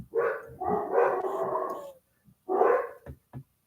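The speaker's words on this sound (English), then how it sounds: "Goober's barking." A dog named Goober barks indoors in two loud bursts, a long run of rough barks followed by a shorter pair, with a few brief yips trailing off near the end.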